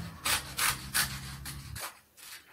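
Scissors cut through the neckline of a cotton T-shirt in a quick run of rhythmic, crisp snips and rasping strokes, close and fairly soft, ending in a brief pause and one last cut.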